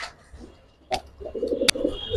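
Silver Giribaz pigeons coo in soft, repeated low calls close by, with a couple of sharp clicks or flaps breaking in between.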